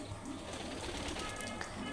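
Soft, low cooing of pigeons with young, enduring extreme summer heat, repeats gently in the background, quiet and somewhat distant, over faint ambient noise.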